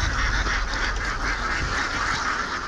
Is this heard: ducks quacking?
yes